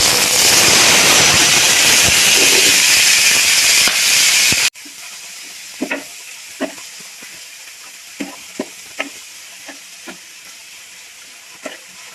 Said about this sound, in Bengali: এরপরে পেঁয়াজ কুচি এবং মরিচের কুচি গরম তেলের ভিতরে দিয়ে দেব